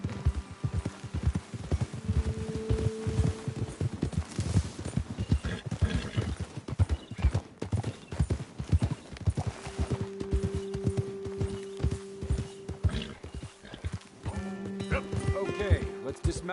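Video game horses' hoofbeats clip-clop steadily as they walk along, with someone talking over them and a brief whinny partway through.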